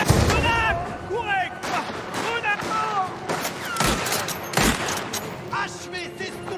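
Gunfire from a sniper and other shooters in the video game Mafia: dense, loud volleys of shots and booming blasts run throughout, with sharp single reports standing out, and shouting voices mixed in.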